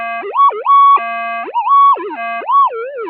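A metal detector fitted with an oversized search coil wails with loud, rising and falling electronic interference tones, warbling continuously like a siren, close and with no talk.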